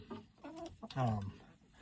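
Chickens cluck in short, soft bursts, a few close calls rising and falling over a quiet background.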